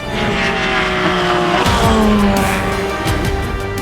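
Porsche Le Mans race car on track, a loud, close engine roar with shifting pitch that swells and carries steadily throughout, with a hint of tire squeal mixed in.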